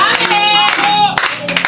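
A church congregation claps in praise of the Lord in a few sharp bursts, heard under a loud singing or calling voice over a short stretch.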